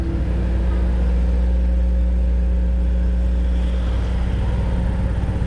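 Steady low engine rumble of cars in slow road traffic in Marikina, Concepcion, a continuous mid-loud idling and revving drone with faint distant vehicle noise and no voices.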